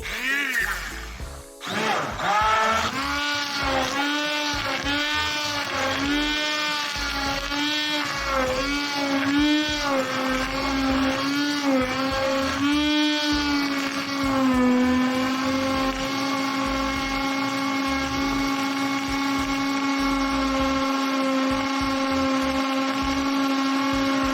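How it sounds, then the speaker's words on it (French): An immersion blender whirs continuously while mixing homemade keto milk, its motor pitch wavering at first and then holding steady and loud throughout. "Moi, j'ai pris le mixeur plongeant parce que je veux pas laver."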